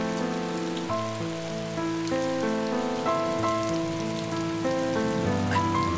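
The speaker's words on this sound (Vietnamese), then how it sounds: "Mưa to quá" Heavy rain pours steadily, a dense even hiss running beneath soft piano music, with no voices.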